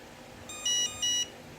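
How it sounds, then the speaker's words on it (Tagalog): Two clear, high electronic beeps from a power bank, short and evenly spaced, sounding close against a quiet background. "Ayan, nag-beep siya ng tatlo."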